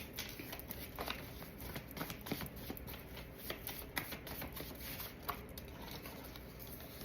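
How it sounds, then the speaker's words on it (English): Tarot cards shuffled by hand, a steady close pattering riffle of card edges running throughout, with no voice over it. "let me pull some more cards."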